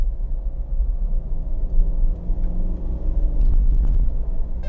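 A Mitsubishi Pajero with a 2500 cc engine accelerating at high speed, a steady heavy low rumble of engine and road noise heard from inside the cabin, with no talking.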